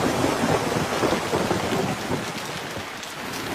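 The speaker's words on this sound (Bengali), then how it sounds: "না এই বৃষ্টি থামলেই আসছি।" Heavy rain pours steadily in a rural village, a dense hiss of drops hitting surfaces with a low rumble of thunder beneath, continuous and close, with no voices.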